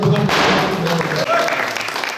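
A burst of applause from a crowd at a badminton tournament closing ceremony, dense clapping that is loudest at the start and then thins out, with some background voices.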